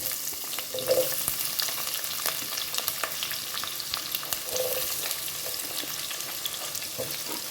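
Onions frying in hot oil with fennel seeds give a steady close sizzle with light crackles, a couple of soft tonal clinks and occasional stirring scrapes, and no talking.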